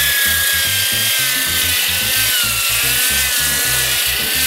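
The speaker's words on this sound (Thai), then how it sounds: "พอดีของผมมีเครื่องขัดปรับรอบนะครับก็ใส่ใบกระดาษทรายแบบนี้นะครับขัดไปเบาๆนะครับ" Variable-speed sanding machine with a sandpaper disc grinding a rough concrete garage floor, loud and close, with a steady high whine over a rhythmic scraping rumble. No voices are heard.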